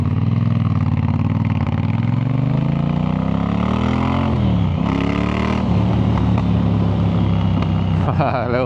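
Car with the rear silencer removed, a loud raspy exhaust droning steadily as the engine revs rise and fall, with a few sharp pops and bangs near the end.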